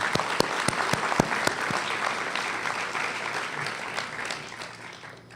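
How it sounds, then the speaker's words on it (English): Audience applause at a 2018 high school senior awards ceremony, a dense wash of clapping with a few sharp near claps at the start, holding steady and then tapering slightly. "a round of applause."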